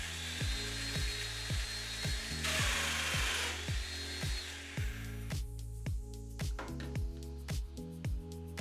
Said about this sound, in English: Cutting the mortises into the rails was easy enough